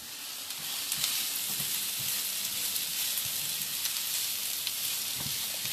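Onions frying in a pan for a spinach, chickpea and sweet potato filling, giving a steady, dense sizzle with occasional soft stirring sounds.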